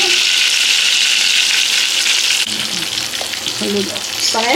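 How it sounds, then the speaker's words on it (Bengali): Turmeric dropped into hot oil in a pan for an egg curry sets off a loud, steady sizzle that runs the whole time, with a few stirring clinks and scrapes in the second half. "তেল গরম হয়ে গেছে, তেলের মধ্যে একটু হলুদ দিয়ে দিলাম,"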